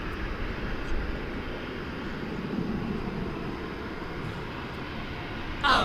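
A 1994-built DHL cargo jet operated by ABX Air, inbound from Cincinnati, arrives at DFW with a steady, distant engine roar that holds evenly throughout, swelling briefly at the very end.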